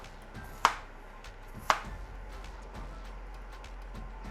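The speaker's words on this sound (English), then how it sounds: "we're going to start off by chopping up our potatoes" A knife chops through potatoes on a cutting board, two sharp, close board knocks spaced about a second apart, followed by quiet kitchen room tone.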